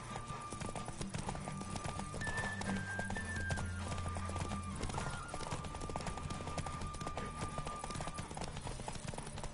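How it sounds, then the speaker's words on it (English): Rapid rhythmic hoofbeats of a galloping horse in a Witcher video game race pound steadily throughout, with a steady background hum and brief tonal sounds in the middle. "Don't spare the horse!"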